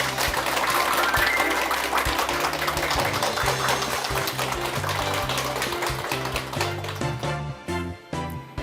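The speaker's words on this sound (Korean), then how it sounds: "교수님을 큰 박수로 맞이해 주시기 바랍니다." Studio audience applause welcoming a national defense university professor onto a lecture broadcast, loud sustained clapping from many hands that starts to thin and trail off toward the end.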